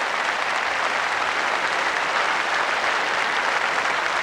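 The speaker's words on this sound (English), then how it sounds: "And the applause for a win in the fours playoff" Steady, dense applause from a crowd at a lawn bowls match, clapping continuously at an even level throughout without pause.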